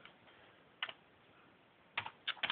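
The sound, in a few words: typing on a Commodore C64C computer keyboard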